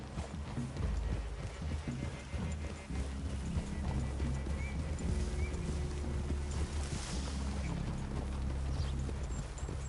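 Horses walk through a forest clearing with soft, steady hoof clip-clops under a continuous low outdoor rumble.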